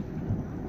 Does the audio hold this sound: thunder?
yes